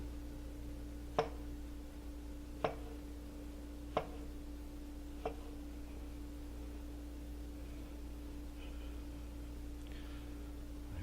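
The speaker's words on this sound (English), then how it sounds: "What I want to do, very gently slice these." A knife gently slices food for a chicken enchiladas verde garnish, making four soft, evenly spaced cuts about a second and a half apart, each fainter than the last, over a constant low hum.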